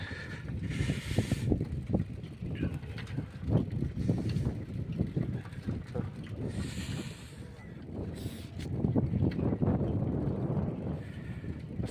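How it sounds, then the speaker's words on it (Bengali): Strong cold wind roars and buffets steadily across an open paddy field, with low rumbling gusts swelling and easing throughout, close and loud against the microphone. "প্রচণ্ড হাওয়া বইছে"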